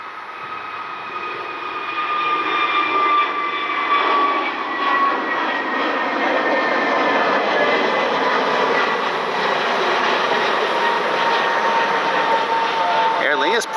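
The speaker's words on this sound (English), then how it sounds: "It's like another Frontier A320neo heading out." A Frontier Airbus A320neo jet departs Cleveland Hopkins airport on a rainy night, its engine roar swelling quickly and then holding as a loud, continuous, close rumble with a whining tone.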